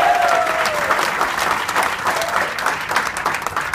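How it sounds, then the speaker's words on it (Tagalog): An event audience claps loudly and continuously in a dense burst of applause, with crowd noise and a voice faintly over it. "Lakasan natin yung palakpak."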